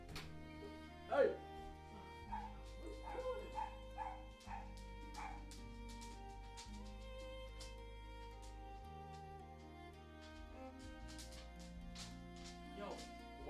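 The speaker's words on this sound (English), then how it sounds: "Yo, this dog needs to shut up." A dog in a room yips and barks in scattered bursts, with a few sharp whines, over a constant low hum and ringing tones that persist throughout.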